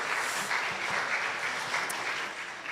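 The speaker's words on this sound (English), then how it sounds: "let's give them a round of applause" A congregation claps for a church band at NJFC of Clifton, a soft but continuous wash of many hands heard from a distance, with no voices over it.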